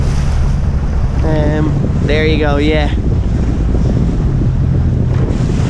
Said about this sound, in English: here seems to come a couple of sets of waves here.